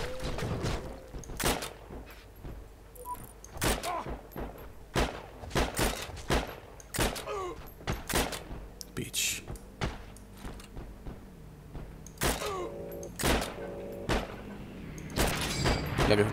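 Rapid bursts of gunfire ring out in the World War II online shooter game Heroes & Generals, sharp repeated shots and volleys in irregular clusters, some close and loud, others further off, with a low engine hum underneath.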